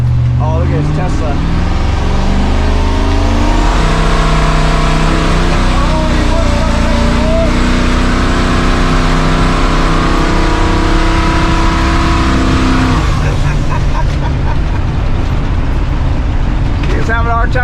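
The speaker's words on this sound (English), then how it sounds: "let's give it a little throttle input, shall we, boys?" A Winnebago motorhome engine is given throttle and revs up while accelerating on the road, a loud droning roar with rising and shifting engine tones, heard from inside the cab, with people talking over it.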